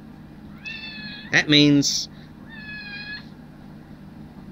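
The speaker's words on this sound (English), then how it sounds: "quiet, kitty." A cat meows twice nearby, a longer call followed by a shorter one, with a person speaking in between and over a steady low background hum.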